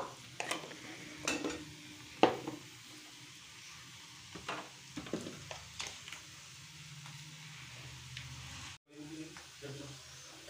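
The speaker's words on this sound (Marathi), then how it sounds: "मीठ असं चांगल्या प्रकारे मिक्स करून घ्यायचं" Vegetables for Hakka noodles are stir-fried and mixed with salt in a pan, soft sizzling under repeated scraping and clinking strokes of a spatula, close-up, with someone speaking intermittently.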